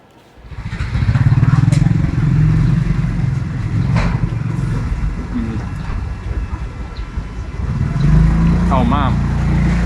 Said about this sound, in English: If I get hit now by one of the many, many motorbikes coming past